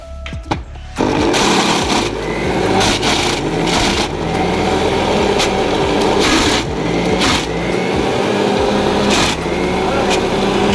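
A mixer grinder pulsing at full speed, churning cream into butter: a loud, close whirring motor with rattling in the jar, broken by brief pauses between pulses and running steadily throughout.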